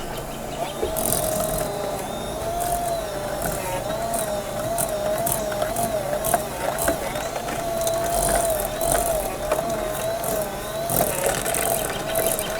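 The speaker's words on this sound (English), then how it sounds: "Cordless hand mixer." A cordless hand mixer creams sour cream pound cake batter in a mixing bowl, a steady whirring motor hum with a constant pitch and the beaters rattling and clicking against the bowl throughout.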